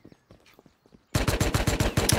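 A sudden burst of rapid automatic gunfire, loud and rhythmic, follows a second of faint clicks and light tapping sounds.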